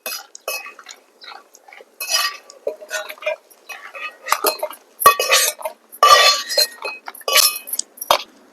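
Roasted watermelon seeds scraped and scooped from a metal pan, with dense clinks and metallic scrapes in quick irregular bursts up close.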